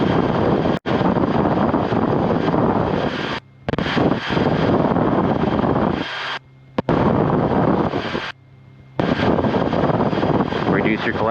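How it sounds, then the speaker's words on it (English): Wind roars into the cockpit of a Rotorway helicopter in flight, a loud broadband rush steady against the rotor and engine drone, cutting out briefly several times as the intercom keys. "If you hear wind coming in, that's because you got wind coming in my side."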